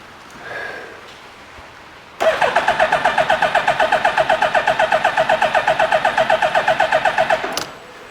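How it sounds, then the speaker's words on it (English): A 2000 Suzuki Hayabusa's electric starter cranks the engine in a steady, rhythmic whirring chug for about five seconds without it firing, then cuts off abruptly. "let's hit that starter button and see if we can't get this thing to fire up"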